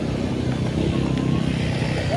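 Small mini motorcycles idle and rumble in a parking area, a continuous low engine drone under general background noise.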